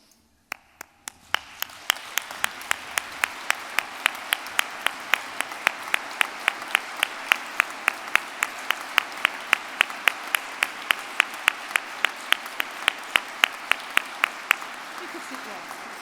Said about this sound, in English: I'll ask the students to give you a round of applause